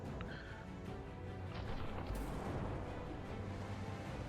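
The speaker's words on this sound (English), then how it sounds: "that missile barrage is coming in" Far-off missile barrage explosions from a From the Depths arena battle rumble on as a faint, continuous low roar, with a brighter burst partway through.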